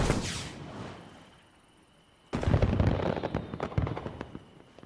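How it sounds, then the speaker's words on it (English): Fireworks go off in the video game Disney Dreamlight Valley: a soft whooshing launch fades, then a sudden burst is followed by scattered crackling pops at moderate volume. "You can do fireworks now."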